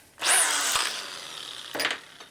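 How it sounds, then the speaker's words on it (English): A reamer run through holes in a Harley Shovelhead engine case, a loud whirring burst of cutting lasting over a second, then a short second spin, close up with no talk. "have to run the reamer in those two"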